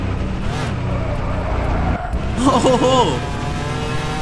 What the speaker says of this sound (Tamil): வண்டி சவுண்டு நல்லா தான் இருக்குது.